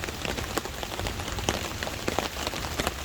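Heavy rain drums on a hammock tarp during a summer thunderstorm at a camp. It makes a dense, continuous patter with sharper individual drops popping close by, and no voices.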